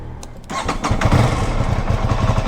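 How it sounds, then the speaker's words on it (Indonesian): An Aprilia RS660 inline two-cylinder motorcycle engine cranks briefly on a cold start, then catches and rumbles into a loud, uneven idle, close to the listener. "Waktunya kita cobain cold start dulu kali ya."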